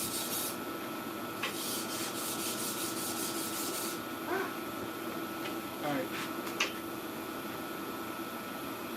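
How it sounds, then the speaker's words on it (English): A multi-bar pattern-welded sword blade is hand sanded with soft, steady rubbing strokes, fairly quiet and close, with a few faint scrapes and light taps scattered through. "Now we must begin to hand sand this top part"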